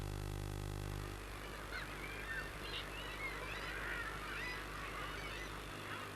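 Strange, harsh cackling calls rise from many birds at once over a low rumble, a dense, raucous chorus in the dark, some near, some farther off.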